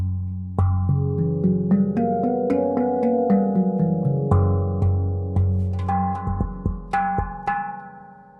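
An ultra-low Axiom Apex outie handpan rings out, struck notes layering deep sustained bass tones under brighter overtones, starting in a slow rhythm and then quickening into a run of hits.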